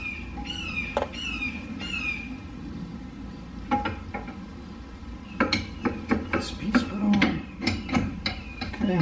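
Bolt being tightened on front suspension parts during reassembly of an R32 Skyline GT-R: a run of sharp metallic clicks and scraping ratchet-like strokes, close and moderately loud, in irregular bursts with a low background hum.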